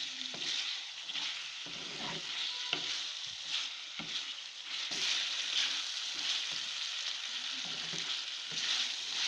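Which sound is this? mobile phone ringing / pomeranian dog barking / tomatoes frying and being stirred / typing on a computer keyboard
tomatoes frying and being stirred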